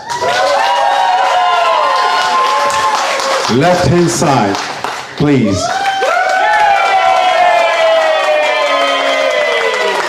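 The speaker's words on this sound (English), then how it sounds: "Right inside, give her a round of applause" Wedding reception guests clap and cheer for the maid of honor, a lively crowd noise mixed with whoops and shouts, while an MC's voice carries over the top in speech throughout.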